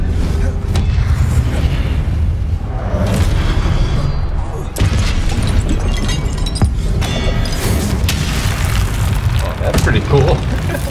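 Spell explosions from the Confringo fire spell in the video game Hogwarts Legacy, with dense booming blasts and rumbling over continuous game music and effects, a voice speaking at times.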